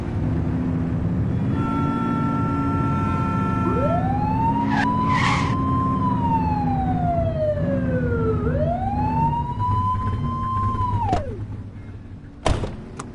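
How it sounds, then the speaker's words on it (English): Police car siren in a police video game wails in loud rising and falling sweeps, close and continuous over a low engine drone, ending with a couple of sharp knocks. "Get behind them and blip the siren and make them pull over."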